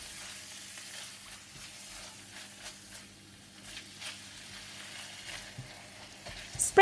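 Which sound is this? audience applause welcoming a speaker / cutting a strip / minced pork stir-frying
minced pork stir-frying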